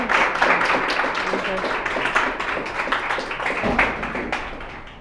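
An audience applauds for Anaí, a performer at a live audiovisual master class, with a steady wash of clapping over five seconds and a voice talking faintly over it.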